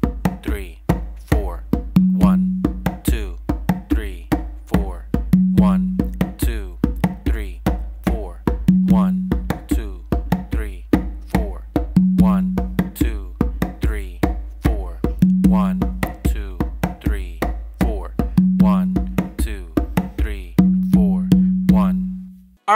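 Bass finger clave exercise on congas: a steady, slow stream of soft bass-finger strokes with periodic sharper accents in a clave-like pattern, close and dry, continuing alone for over twenty seconds.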